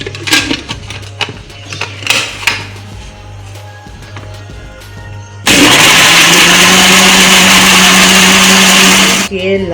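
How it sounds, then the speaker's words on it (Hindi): Electric grinder loudly blending soaked red kidney beans with ginger, a steady harsh whir running about four seconds after some kitchen clatter, then stopping abruptly. "इसको ग्राइंड करना है।"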